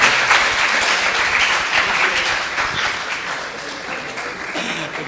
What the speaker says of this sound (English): So a big round of applause for him